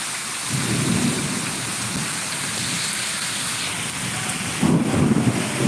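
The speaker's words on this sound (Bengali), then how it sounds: "আমাদের এখানে প্রচুর পরিমাণে ঝড় বৃষ্টি তুফান সব কিছু চলে এসছে" Steady heavy rain pours throughout a storm, with low rumbling thunder rolling in near the start and a louder crack of thunder toward the end.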